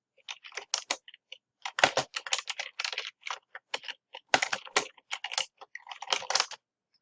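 Typing on a computer keyboard to enter a new title in presentation software, with quick irregular bursts of close, crisp key clicks separated by short pauses, with no talk.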